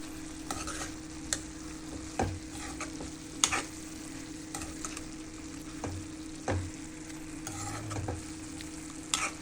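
A spatula stirs spring onion greens and moong dal in a pan, the scrapes and soft clanks coming at irregular intervals over a quiet, steady sizzle, close and unhurried, with no talking.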